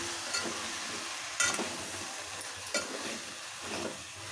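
Mixed vegetables for kurma, including carrots and meal maker, are stirred in a sizzling pan, with a soft continuous fry and a few scraping strokes of a spoon against the pan, and no talking.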